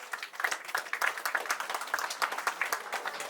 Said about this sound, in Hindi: तो अंत में हमें ताली द्वारा दोनों परिवार को धन्यवाद देंगे।